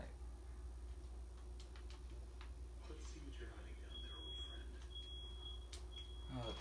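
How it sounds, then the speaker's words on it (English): A real fire alarm goes off in a room during gameplay, giving a few faint, high electronic beeps in the middle of the stretch over a quiet background hum. "Fire alarm went off, sorry guys."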